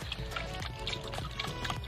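Water is added to grated coconut for making suman, the liquid pouring and splashing softly against a steady background hum, with sloshy rhythmic sounds close by.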